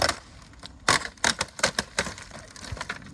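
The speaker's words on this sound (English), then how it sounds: "with a sharp knife, we can just cut right down the edge" A sharp knife cutting down the edge of a plastic plant pot, a close series of crisp snapping cracks and clicks, roughly eight sharp bursts in quick irregular succession.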